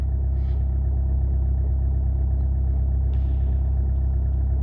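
A 2014 Volkswagen Passat TDI 2.0 diesel idles steadily after a cold start at -21 C, a loud, even low rumble that stays constant throughout with no talking.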